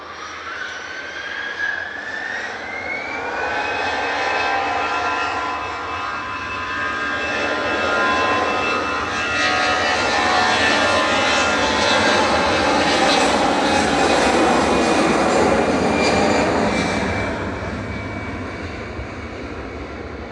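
An Iberia jet airliner takes off from Manchester Airport bound for Madrid, its engines a loud, sustained roar with a rising whine that swells and then slowly eases as it climbs away.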